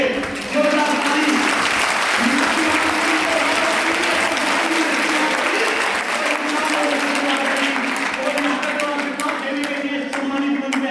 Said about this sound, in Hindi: एक बार जैसा ताली बजवाई थी इन चारों के लिए जोरदार ताली